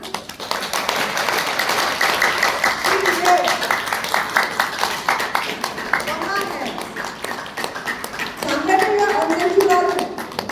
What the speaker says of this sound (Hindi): इसको भी ताली देना चाहिए ना